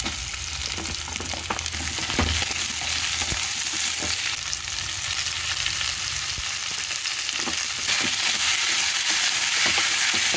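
Drumstick (moringa) curry pieces fry in a pan, giving a steady, loud sizzle with occasional stirring clatters throughout.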